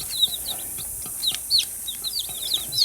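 Young chicks and chickens give high, rapid chirping peeps with some soft clucks, scattered unevenly and close by over a steady background hiss, with no talking.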